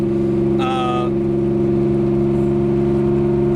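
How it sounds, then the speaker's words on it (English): Car exhaust note while driving, a steady loud low droning hum with strong bass tones throughout, briefly overlapped by a short voice near the start. "Exhaust isn't droney, but it's almost got like that trumpety"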